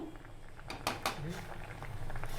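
Tamarind simmers in water in a pot on a medium flame while making bhel puri chutney, giving a soft, steady bubbling hiss with a few brief louder splutters, heard close up.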